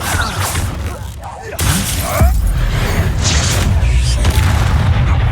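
Spell impacts in the Hogwarts Legacy video game land as loud booming blasts with crackling, shattering debris, repeated over a dense combat background while a voice is heard.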